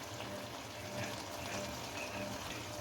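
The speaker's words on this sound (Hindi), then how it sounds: "अब इसमें 1/2 कप के करीब ऑयल ऐड कर दें" About half a cup of oil poured into a kadhai of fried goat intestine (ojri), giving a steady, close, fairly loud rushing hiss that stays even throughout, with no talking.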